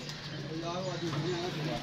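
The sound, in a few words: pigeon cooing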